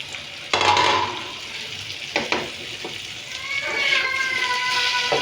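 Okra hitting hot oil in a pan already seasoned with turmeric, then stirred: a sharp sizzle bursts in and settles into steady frying with scraping stirs and clinks, close by, with a voice speaking throughout.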